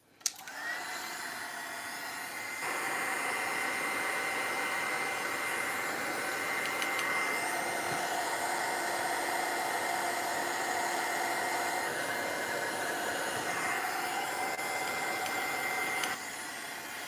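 Hair dryer blowing steadily up close, a continuous whooshing hum that clicks on, steps up to a higher setting, and drops back down before the end.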